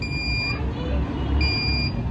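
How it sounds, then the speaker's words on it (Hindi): A mini handheld metal detector passed over a gun beeps two times with a sharp electronic tone, standing out over a low background rumble. "देखो भाई किस तरीके से बीप साउंड देके पास दिखाओ"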